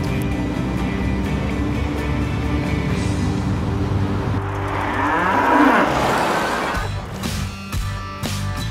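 A cow lets out a long, loud, drawn-out moo close by, rising over a steady background rumble and fading near the end.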